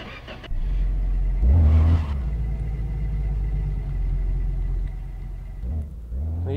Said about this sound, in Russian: Но едет тачка бодро, даже на таких дисках.